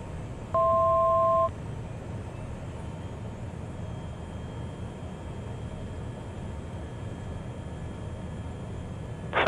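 Steady engine drone inside a Cessna Citation Mustang jet on approach to land, continuous and even, with a short two-tone electronic beep early on.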